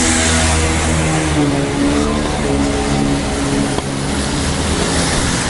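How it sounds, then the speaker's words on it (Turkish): Strong wind roars and buffets close to the microphone in a constant, loud rush, driving snow, with a low rumbling undertone and no talking, on an evening city street. "rüzgarın yüzümüze doğru böyle karı çarpması"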